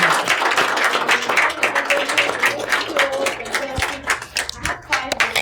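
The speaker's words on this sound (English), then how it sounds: "Let's clap for all of you" Audience clapping fills the space, a steady patter of many hands with some voices mixed in, fading toward the end.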